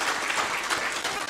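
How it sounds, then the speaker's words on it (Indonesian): Audience at a large religious gathering giving sustained, dense applause, loud and continuous before tapering off at the end. "Tepuk tangan untuk MBS Yogyakarta."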